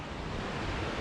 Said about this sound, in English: so that's a river going to the lake